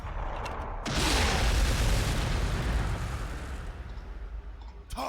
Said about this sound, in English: Let's just throw some frag down the field and see what happens.